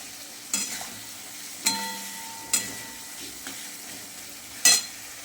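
Tomatoes stirred into hot oil and spices for oil koi fish curry, with a low steady sizzle broken by a few sharp spatula scrapes and clinks against the pan at irregular intervals.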